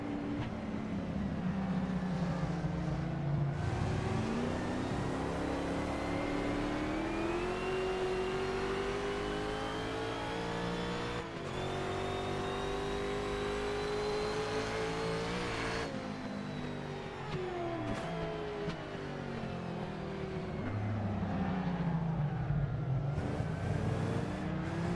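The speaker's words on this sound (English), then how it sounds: "Sliding behind the Ferrari." A historic sportscar in a racing video game drives behind a Ferrari, its engine note rising and falling steadily through shifts and slides over a continuous close whine, with no talk.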